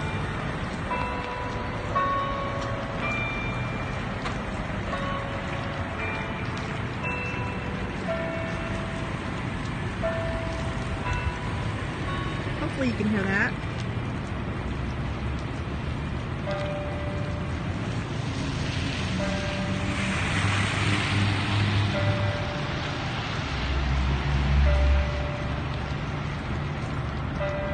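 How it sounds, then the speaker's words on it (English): A courthouse bell in downtown Hillsboro, Texas chimes on a rainy day, striking a slow run of evenly spaced tolls over steady traffic and rain noise, with a person speaking briefly. "Oh, Courthouse is chiming."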